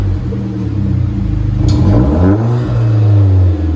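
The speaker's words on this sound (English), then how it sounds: "Oh yeah, you can hear the turbo now." A Hyundai Genesis Coupe 2.0L turbo with straight-pipe exhaust revs loud and close, a deep steady drone climbing and falling in pitch over a few seconds, with a brief higher whoosh midway.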